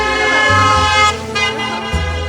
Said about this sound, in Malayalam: ഇവിടെ ആൾക്കാർ വെറുതെ ഹോൺ അടിച്ച് വെറുതെ പോവും